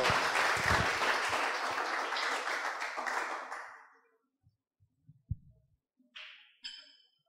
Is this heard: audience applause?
yes